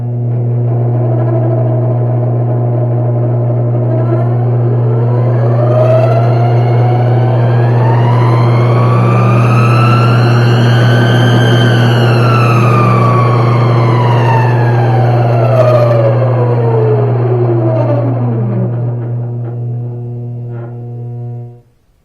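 A mini lathe runs on a freshly fitted, realigned drive belt and gearing: a loud, steady motor hum with a rising and falling whine as it spins up and winds down, then cuts off abruptly.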